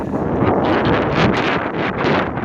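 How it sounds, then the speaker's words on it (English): Strong wind buffets the microphone in loud, continuous gusts that rise and fall outdoors in a rainy mining district, with no voices. "Very windy today."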